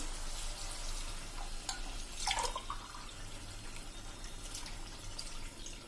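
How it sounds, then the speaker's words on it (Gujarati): Water is poured into a pot of bottle gourd khichdi cooking without a pressure cooker, about 500 ml or two glasses in all. It makes a soft, close splashing with a brief louder gush midway over a steady low background. "500 ml એટલે કે આપણે આ 2 ગ્લાસ પાણી નાખી દેશું."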